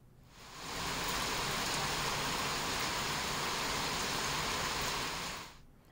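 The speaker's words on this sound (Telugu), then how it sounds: "అరగంట నుంచి ఏకతాటిగా వాన కురుస్తుంది" Heavy rain pours down in Sangareddy, a dense, steady hiss that swells in after a moment, holds constant for several seconds and then fades out.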